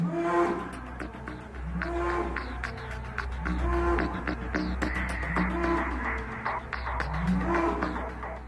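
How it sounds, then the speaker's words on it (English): A heavily muscled Belgian Blue cow, a selectively bred cattle breed, moos repeatedly in long, loud, close calls spaced a second or two apart, with a steady low rumble behind. "This cow is technically known as a Belgian Blue, and it's the product of selective breeding"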